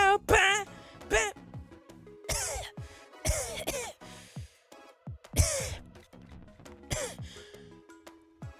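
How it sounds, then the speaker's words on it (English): A few sharp coughs and throat-clearing bursts from a person, interspersed with sighs and breathy vocal sounds, close and fairly loud. "Oh, I coughed too loudly."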